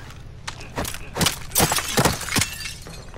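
Glass shattering in Call of Duty Warzone, several sharp breaking crashes in quick succession over about two seconds, fairly close and moderately loud.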